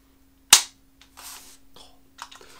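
Airsoft replica fired on semi-automatic, one sharp crisp shot followed by a few softer mechanical clicks and rustles in an otherwise quiet setting.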